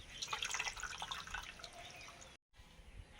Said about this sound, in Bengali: এবারে ভালো করে জল পাল্টে পাল্টে ধুয়ে নিচ্ছি